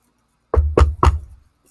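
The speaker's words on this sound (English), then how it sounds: "Knocking on wood." Three quick knocks on a wooden surface, close and sharp, evenly spaced within about half a second, with near silence before and after.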